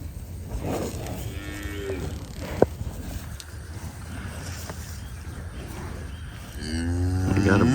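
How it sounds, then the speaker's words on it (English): Cattle lowing in a Bahia grass pasture, with several drawn-out moos rising over steady outdoor background noise and a louder, nearer moo near the end. "I may have to spray these cows again."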